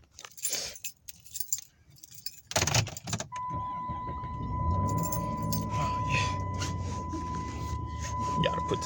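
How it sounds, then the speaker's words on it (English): Car keys jangle in short metallic bursts as a driver gets into the car after work, followed by a steady electronic chime and the low hum of the vehicle interior. "let me get my keys real quick"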